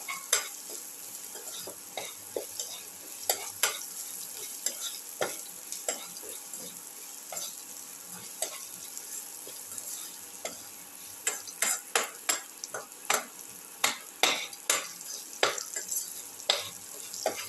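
Salted eggplant and tomato are stirred together in a hot pan: a continuous soft sizzle under frequent clicking, scraping spatula strokes against the pan, growing busier toward the end, close and with no voices.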